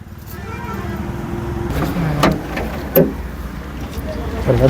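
Modified Volkswagen Polo GT TSI petrol car with a BMC air filter, engine idling steadily with a few short throttle blips near the end, heard up close.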